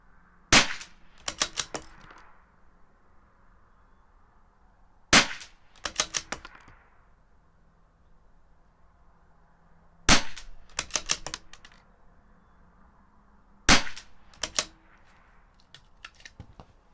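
CZ 457 rifle firing Lapua Polar Biathlon ammunition. Four sharp bursts, each made of a lead shot and a quick cluster of ringing echoes or follow-up cracks, spaced a few seconds apart against a quiet background.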